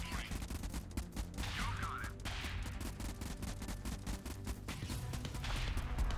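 Dense, steady gunfire in the vehicle combat video game Convoy, a continuous rattle of rapid shots with explosive low rumble running the whole time, with faint speech underneath.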